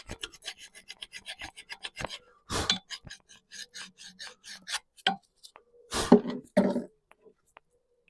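A hand file rasps along a steel key from the flywheel of a 1921 Lister TM type stationary engine, in quick, close, repeated strokes. A few louder scraping bursts and short pauses break the rhythm.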